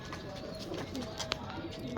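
Teddy-breed pigeons, Salare Teddy among them, coo softly in a breeder's loft, low murmuring calls running on beneath a voice that talks nearby throughout.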